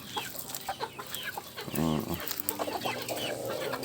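Rhode Island chickens cluck and murmur close by on a small farm, with a brief louder squawk midway over a busy background.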